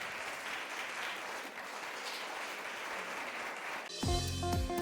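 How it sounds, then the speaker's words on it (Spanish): A church congregation applauding in a dense, steady wash of clapping over several seconds, heard from the room, then cut off as music begins. "Dale ese aplauso al Señor."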